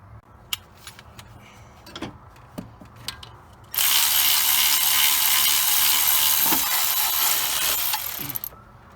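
A ratchet socket wrench backing out power steering pump bolts on a 2007 Chevy 2500 HD gas truck, first with scattered clicks and clinks, then a loud continuous fast ratcheting for about four seconds before a few final clicks.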